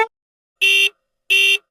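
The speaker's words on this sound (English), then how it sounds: "Went the horns on the speeding cars." Two short, loud car-horn honks, evenly spaced and bright, come from speeding cars on a highway, with no talking around them.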